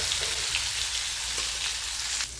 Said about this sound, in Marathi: तेलामध्ये मोहरी, जिरे टाकायचे. यामध्ये आता हे वाटण टाकायचं